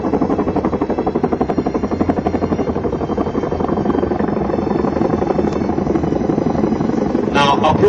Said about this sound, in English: Now approaching from your right, 2 o'clock, E-17 upgrade helicopter, call sign Ankush.